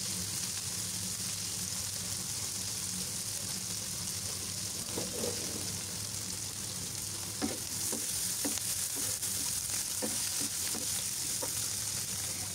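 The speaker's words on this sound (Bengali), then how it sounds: "এই তো পেঁয়াজ কাঁচামরিচ এখন আমি খুব ভালোভাবে ভেজে নিব।" Onions and green chillies frying in a pan make a soft, steady sizzle, and a few sharp stirring knocks and scrapes follow in the second half.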